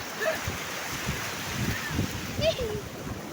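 Big sea waves rolling in, with a broad wash of surf and wind noise in the microphone, and a person talking over it.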